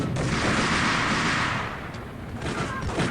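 Explosions boom in a Max Payne video game, a loud sustained rumbling blast that fades and then flares again briefly, dense and close with no speech over it.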